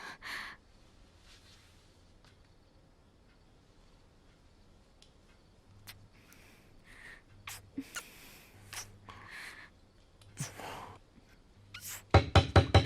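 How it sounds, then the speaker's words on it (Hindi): Knocks land on a door in a series of sharp, spaced raps that grow louder and quicker toward the end, over a quiet background with some breathing. "गीता, दरवाजा खोलो।"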